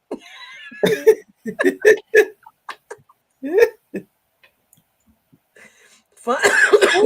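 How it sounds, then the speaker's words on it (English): Several sharp coughs burst out in a rough, irregular series, followed after a pause by a short stretch of nearby talking. "My apologies, you guys, for coughing."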